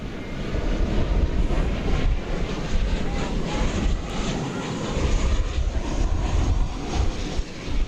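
Airliner taking off from runway 18 left at DFW airport, a steady broad engine roar with wind-like rushing that holds loud and unbroken throughout, heard from a distance.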